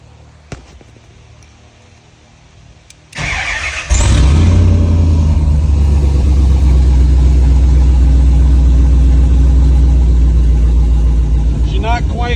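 A 6.0L L76 LS V8 in a 1971 Jeep Gladiator, running a temporary exhaust with no muffler, is silent at first. It then cranks, catches with a loud bark and settles into a loud, steady, rumbling idle.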